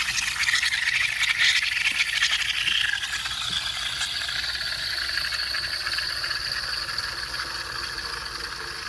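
A Lavazza espresso machine's steam wand hisses steadily into milk, a loud continuous rushing hiss with slight rattling that eases a little partway through.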